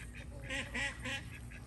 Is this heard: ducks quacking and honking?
yes